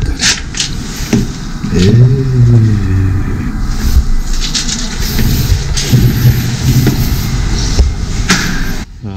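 A Russian-made vehicle's engine rumbles and revs close by, rising in pitch briefly before settling into a steady growl.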